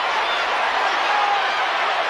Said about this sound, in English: Crowd getting buzzed